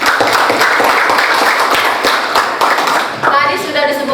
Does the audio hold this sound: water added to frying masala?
no